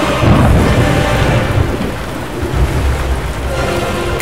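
A loud thunderstorm with heavy rain, deep rolling thunder rumbling beneath a dense, continuous wash of rainfall, close and enveloping with no voices.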